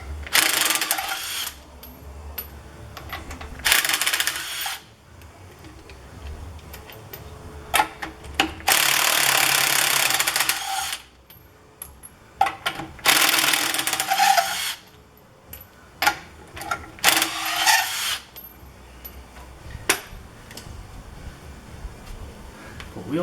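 An impact wrench spins lug nuts off a car wheel during a tire change, firing in several loud, buzzing bursts separated by pauses and softer clinks of handling.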